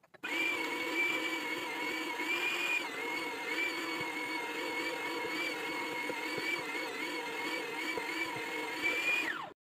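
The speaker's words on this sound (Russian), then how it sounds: "Перекручиваем тыкву на мясорубке." An electric meat grinder minces peeled pumpkin for a pumpkin pie, a steady loud motor whine with a constant high pitch that holds for several seconds and winds down at the end.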